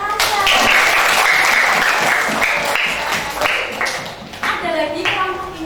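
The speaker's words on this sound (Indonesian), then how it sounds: "tepuk tangan buat Alsa" Classmates clap for a student in a classroom, a loud burst of many hands that rises quickly and tapers into scattered claps, with an adult voice talking over it.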